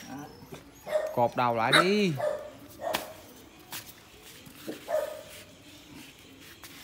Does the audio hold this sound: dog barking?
yes